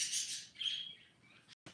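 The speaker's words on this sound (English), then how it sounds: "Oh, I should cover my birds." Pet birds indoors chirp and twitter in high, rapid bursts, fairly faint and close, trailing off into near silence with no one speaking.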